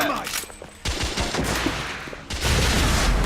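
Rapid bursts of gunfire from the video game The Order: 1886 crack in dense, overlapping volleys, loud and broadband, with a brief lull before a heavier barrage erupts near the end.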